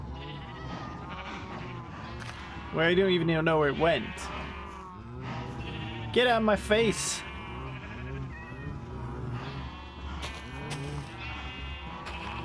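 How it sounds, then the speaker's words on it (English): Video game sheep bleat repeatedly and loudly in wavering cries, overlapping with a player talking throughout. "these sheep are so loud"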